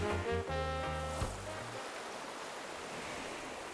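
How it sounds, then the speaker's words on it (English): Waves break and wash ashore under wind in a steady, fairly loud broadband roar that continues alone after a short tonal chime fades near the start. "The waves breaking as the wind chases them ashore?"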